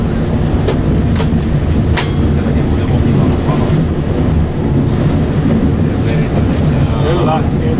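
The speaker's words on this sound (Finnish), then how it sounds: "Kyllä täällä aika täyteinen juna on" Loud, steady low rumble and rattle inside a crowded moving passenger train in Finland, on the route from Joutsijärvi to Salla, with continuous rolling noise and a few faint clicks and squeaks over it throughout.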